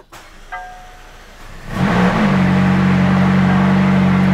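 A McLaren 570S sports car engine cranks and fires up around two seconds in, then settles into a loud, steady idle rumble.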